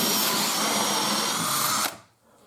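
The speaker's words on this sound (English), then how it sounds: "is just drill the two holes on the two marks" A power drill fitted with a 68mm hole saw cuts into wood and plasterboard with a loud, steady whine that stops abruptly near the end, leaving a quiet room.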